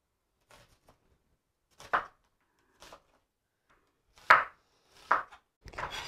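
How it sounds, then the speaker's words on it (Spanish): An onion cut into julienne strips with a knife on a board, a handful of separate crisp chops spaced irregularly, close and clear in near silence. "Cortaremos la cebolla en juliana"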